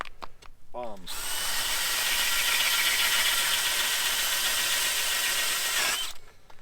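A powered ice auger bores through frozen lake ice that wind-driven chop had pushed into shore, a loud, steady whine that runs for about five seconds after a few brief clicks and then cuts off.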